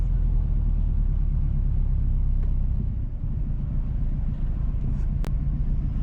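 A car driving west along the Highgate to Windsor Castle Road in St. Mary Parish, Jamaica, heard from inside as a steady low engine and road rumble.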